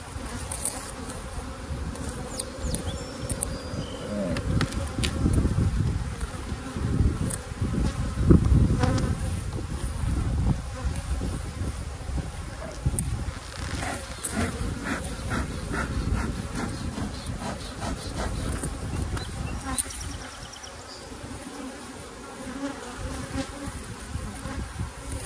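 Dense swarm of honey bees droning around large beehives outdoors, a continuous loud buzz with individual bees passing close, no voices.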